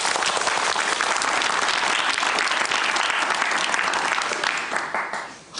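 Sustained, dense applause from a studio audience on a late-night TV talk show, loud and steady throughout before thinning and tapering near the end.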